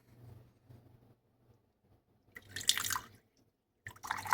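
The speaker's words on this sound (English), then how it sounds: "So if I were to, again, pour from the spout" Water pours from the spout of a Narcissus P901 gooseneck kettle, a quiet trickle followed by two short, brighter splashing pours against a near-silent background.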